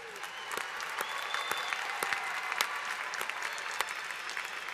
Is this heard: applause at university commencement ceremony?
yes